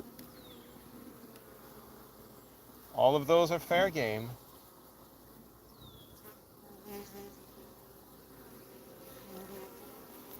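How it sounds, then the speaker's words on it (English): Many honey bees buzz steadily around a beehive, a dense close hum running throughout, while a person speaks briefly over it. "Lots of bees."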